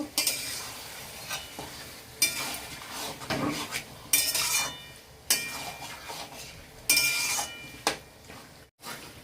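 Mutton curry is stirred in a pot, with repeated scraping sweeps of a utensil against the metal over a low sizzle, and bursts of louder scraping and clinks coming in irregular strokes close by.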